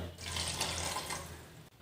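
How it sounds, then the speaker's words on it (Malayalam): A steady rush of half a cup of water pouring into a pot of beef curry for a couple of seconds, soft and continuous, then stopping abruptly. "ഇപ്പം ഞാനൊരു 1/2 കപ്പ് വെള്ളം ഒഴിക്കുന്നുണ്ട്"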